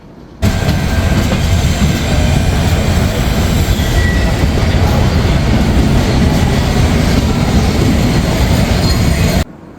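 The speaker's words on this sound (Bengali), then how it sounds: "অবশেষে প্রবেশ করছি আমাদের কাঙ্ক্ষিত এবং সর্বশেষ stoppage Kamalapur railway station Dhaka" The Silkcity Express rolls into Kamalapur railway station in Dhaka with a loud, continuous rumble of wheels on track, steady clatter and faint wheel squeal, heard from on board with no talking.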